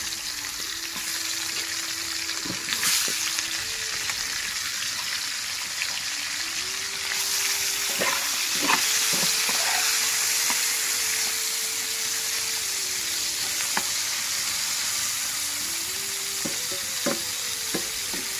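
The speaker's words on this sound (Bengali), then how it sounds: "এখন হচ্ছে মাছগুলোকে ভেজে নিব আর কি।" Stinging catfish (shing) fry in hot oil with a continuous, fairly loud sizzle that swells partway through. Occasional utensil clicks and a faint background hum accompany it.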